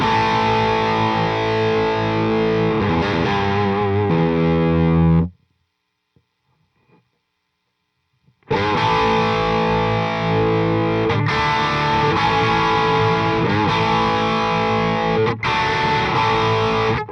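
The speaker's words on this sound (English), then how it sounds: "I wanted to use the Amp 1's overdrive" An electric guitar played through the overdrive of a BluGuitar Amp 1 gives thick, distorted sustained chords and riffs. The sound is loud and dense, and it cuts to silence for about three seconds before the driven playing resumes. No voices are present.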